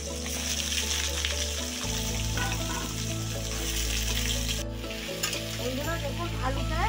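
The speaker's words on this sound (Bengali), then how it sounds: "আলুটা ভেজে তুলে নেবো।" Medium-sized potato pieces frying in oil with turmeric and salt give a steady sizzle under sustained musical tones from background music, with a faint scrape or two near the end.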